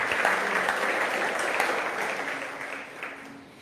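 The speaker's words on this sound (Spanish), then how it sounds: "Dale una ofrenda de palmas" A church congregation claps as an offering of praise to God during a sermon, a dense burst of applause that gradually fades over a few seconds.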